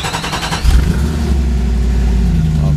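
A 1998 Jeep Grand Cherokee ZJ engine cranks with a rapid starter chatter for about half a second, then catches and settles into a loud, steady idle nearby.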